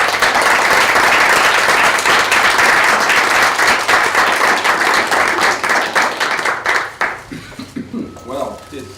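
An audience at a talk on Confucian-Christian dialogue applauds to welcome a professor, with loud, sustained clapping that thins into scattered individual claps and fades, and a voice begins near the end.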